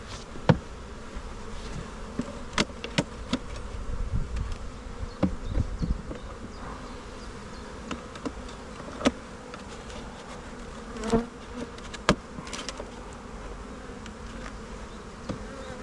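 Steady buzzing of many honeybees around a nucleus hive close by, a dense continuous hum with individual bees zipping past the microphone now and then.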